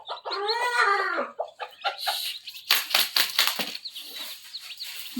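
A hen clucks repeatedly beside her newly hatched chicks, close and clear, with a burst of wing flapping and scratchy movement in the middle.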